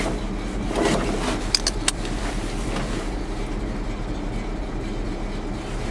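A diesel engine cranks briefly with a few sharp clicks, then catches and settles into a steady, close, broadband running drone.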